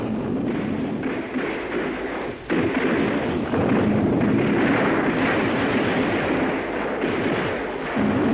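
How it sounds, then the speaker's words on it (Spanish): Soviet artillery rockets firing in Vietnam: a dense, continuous roar of launches and blasts, loud and sustained with rumbling low-end thuds throughout. "Cohetes de artillería soviéticos."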